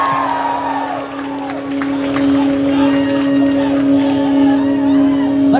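Rock concert crowd at a show cheering and shouting, a dense, loud, sustained roar that swells after the first second, with a held musical tone ringing underneath.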